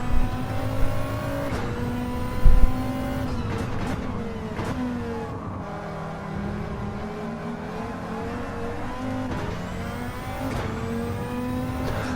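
A racing car engine in a sim racing game, a Group 2-style car at Brands Hatch, drones steadily at high revs with rising and falling pitch sweeps through gear changes, loud and continuous with no talk.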